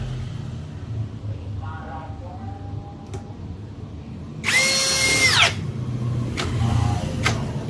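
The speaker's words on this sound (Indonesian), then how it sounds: "saya menggunakan speed 2 ya, mode drilling" A DCA ADJZ2060i power drill in drilling mode at speed 2, fitted with an auger-type bit, bores into meranti batu wood on a table. It gives a single loud, high whine lasting about a second amid low background noise and voices.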